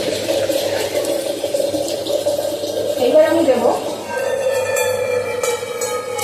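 Water is poured into a pot of measured rice for steamed (bhapa) biryani, a steady splashing, filling stream heard up close for several seconds, rising slightly in pitch as the level climbs.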